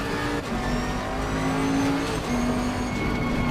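A 2018 Bentley GT3 race car in Assetto Corsa Competizione at Mount Panorama, Bathurst, with a loud, continuous engine drone that shifts in pitch through hard braking and re-acceleration, heard alone without talk.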